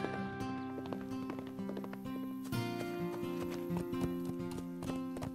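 Hooves of a wild horse clip-clopping in a cartoon stable scene, light repeated taps mixed under strong tonal background music, fairly quiet.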